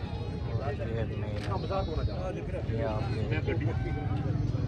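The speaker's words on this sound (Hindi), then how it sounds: "ये पठ है जी, ये बकरी है" Goats bleat at an outdoor livestock market in Dina, calling amid steady crowd chatter and background noise, with several short bleats rising over the busy din.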